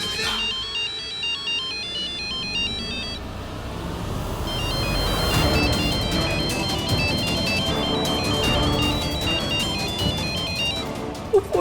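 A mobile phone ringtone plays a repeating electronic melody that rings on unanswered over a low background hum, fading briefly then resuming.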